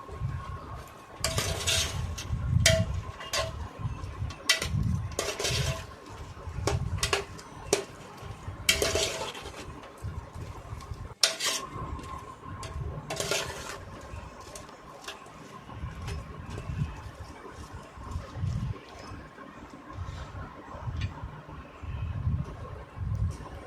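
Spoon clattering and scraping in a pan while spiced vegetable rice masala is stirred, with coriander-cumin powder, turmeric, red chilli powder and a little water added; close metallic scrapes and taps in bursts over a steady kitchen hum.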